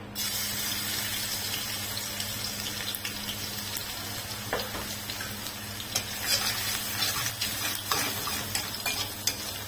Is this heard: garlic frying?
yes